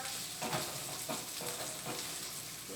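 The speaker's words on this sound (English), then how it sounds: "But keep stirring it up" Vegetables stir-frying in a hot pan, a steady broadband sizzle with repeated soft scraping strokes of a utensil about every half second, fairly quiet and close.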